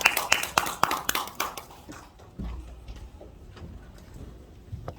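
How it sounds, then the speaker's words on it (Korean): A congregation at a church rally in a Seoul seminary claps to welcome a pastor: a quick run of sharp, rhythmic hand claps at the start that soon loosens and dies away into a quiet room. "박수를 보내드리겠습니다"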